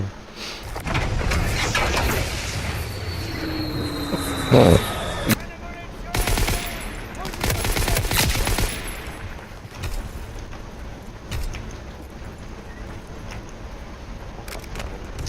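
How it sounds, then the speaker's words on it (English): Submachine gun fire in Call of Duty WWII gameplay, loud rapid bursts with a dense stretch in the middle, mixed with game effects and a player talking over it. "Gila SMG ni. Biar slow dia reload."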